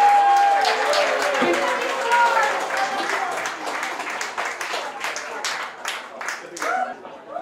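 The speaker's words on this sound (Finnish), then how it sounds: "Aplodia Viktorille." An audience at a live gig in Heinola claps in a burst of applause for a performer, dense clapping that thins toward the end while a voice speaks over it.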